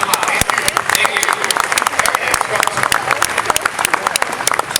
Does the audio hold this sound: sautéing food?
no